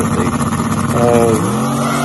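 A rear-mount turbo LS Fox body race car launching, its engine roaring loudly and rising in pitch over about two seconds, close and harsh with a rough, buzzy tone.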